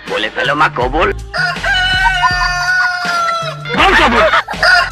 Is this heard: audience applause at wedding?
no